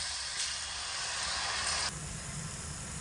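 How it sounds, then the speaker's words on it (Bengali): Palm-fruit pitha fritters lowered one by one into medium-hot oil, giving a steady, soft sizzling hiss that swells briefly and then settles, with no voices. "তেল মিডিয়াম গরম করে নিয়ে পিঠেগুলোকে তেলের মধ্যে এক এক করে ছেড়ে দিতে হবে"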